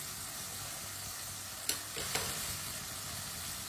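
A spoon stirs fresh peas and salt in a hot frying pan: a continuous close sizzle with a couple of sharp scrapes in the middle, no voices.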